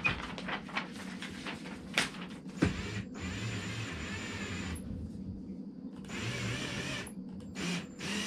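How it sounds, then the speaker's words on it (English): Screws are driven in while furniture is assembled, with whirring tool runs, clicks and sharp knocks nearby, interrupted by short gaps. "Now I gotta tighten all the screws."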